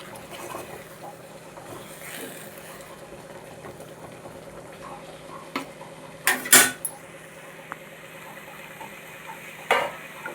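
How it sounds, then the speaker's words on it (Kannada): A metal lid closes on a cooking pot after semolina is stirred in with a spoon, giving a loud pair of clanks midway. Softer clinks come before it, another clink follows later, and a low kitchen hum runs underneath. "ಕ್ಯಾಪ್ ಮುಚ್ತೀನಿ"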